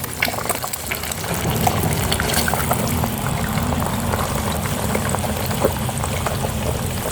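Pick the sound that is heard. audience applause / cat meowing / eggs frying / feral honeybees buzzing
eggs frying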